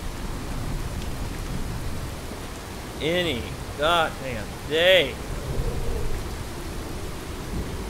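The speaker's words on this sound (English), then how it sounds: "Why is it still raining? How can it literally rain all day?" Steady rainfall in a video game hisses through the whole stretch, with a man's short spoken line briefly rising over it midway; no distinct thunder stands out.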